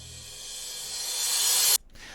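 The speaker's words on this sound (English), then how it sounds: "here's what a reverse crash cymbal would sound like" A reversed crash cymbal sample swells from quiet to a bright, hissing peak over almost two seconds, then cuts off abruptly into near silence, heard alone and up close.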